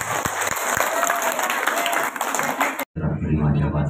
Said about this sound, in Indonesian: Hadirin Bapak Ibu, kita beri tepuk tangan yang meriah